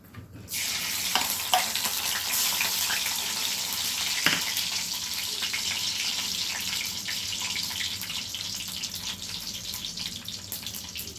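Mustard seeds hitting hot oil while cooking a Telugu-style brinjal and dried fish curry, a continuous bright sizzle and crackle that starts suddenly and holds steady, fairly close.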